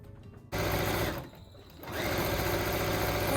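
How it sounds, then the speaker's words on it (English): A sewing machine with a walking foot runs a long stitch through three quilt layers, a loud, fast mechanical whir in two bursts separated by a brief pause, close up with no talking. "Stitching all the way around, I'm using my walking foot, and I'm using a longer stitch length because I'm stitching 3 layers together."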